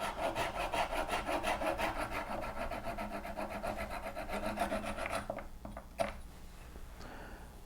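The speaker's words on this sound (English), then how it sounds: "So I'm using just a small hand saw." A small hand saw cuts through a wooden turned Christmas ornament in quick, even back-and-forth rasping strokes, close and steady for about five seconds, then stops, followed by a couple of light knocks.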